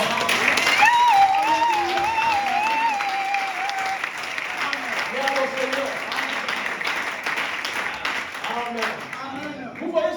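A church congregation applauds after a sermon reading, with steady clapping running throughout beneath a pastor's continuing speech and scattered voices from the crowd.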